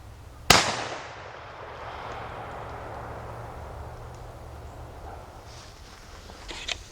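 A single shotgun blast fired while hunting in woods, a sharp loud crack near the start followed by a long rolling echo that fades through the trees, with quiet ambience afterward.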